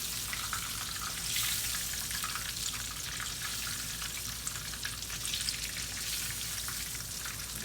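Catfish pieces fry in hot oil, giving a steady, close crackling sizzle with dense popping throughout and no talking.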